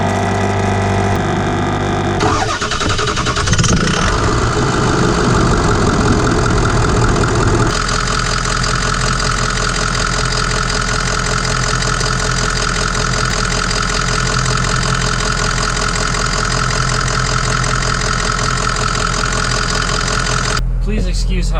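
A 2004 Ford F-250 pickup with a diesel engine cranks and catches after a couple of seconds, then settles into a loud, steady idle with a knocking clatter that runs on for about twenty seconds before cutting off abruptly.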